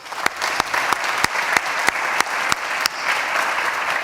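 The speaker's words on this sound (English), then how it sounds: "Please join me in giving Adine a round of applause" Audience applause at a diversity and special recognition awards ceremony, a steady close wash of clapping for about four seconds, punctuated by several sharp, louder individual claps at a fairly even rhythm.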